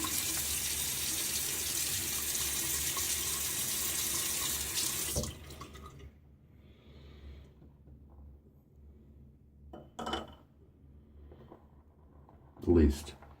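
Tap water gushes steadily for about five seconds while shaving lather is worked up with Proraso, then cuts off, leaving quiet room tone and a few brief knocks and clatters of handling.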